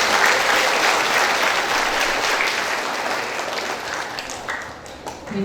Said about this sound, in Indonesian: Sekali lagi boleh beri aplaus untuk KOR.